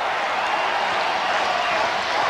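Cricket stadium crowd roars after India's boundary at the 1996 World Cup match against Kenya, a dense, loud, sustained wash of cheering with no pauses.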